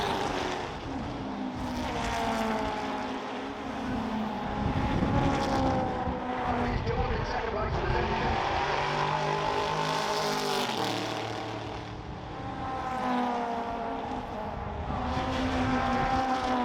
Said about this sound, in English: Dumas seems to have got back in front and pulling away with that mighty 7-litre engine